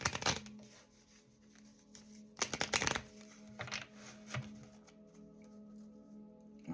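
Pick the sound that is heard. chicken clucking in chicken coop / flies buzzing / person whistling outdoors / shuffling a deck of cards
shuffling a deck of cards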